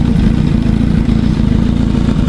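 A Kawasaki Z900 motorcycle fitted with an SC Project exhaust idles close by, giving a loud, steady, deep engine rumble with an even pulsing beat and no talk over it.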